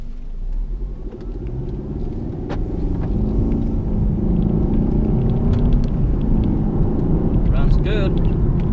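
A 2015 Mercedes C250 turbo, after misfire repair, drives on a test drive with a steady low engine and road rumble building slightly, heard from inside the car as someone talks.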